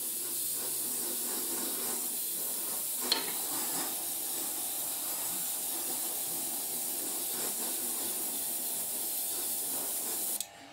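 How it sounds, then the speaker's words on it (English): Aerosol spray paint hisses onto scale model metal plates over black primer, a close, steady continuous hiss with a brief click near the start and an abrupt stop at the end. "I'm not spraying too thick layers."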